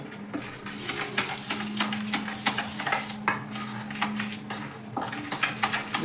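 Steady scraping and clinking of a spoon stirring cauliflower with yogurt, spices and water in a bowl, continuous with small rhythmic knocks, close and fairly quiet.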